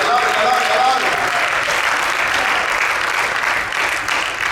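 Steady, loud applause from a church congregation during a sermon, continuous throughout and easing slightly near the end.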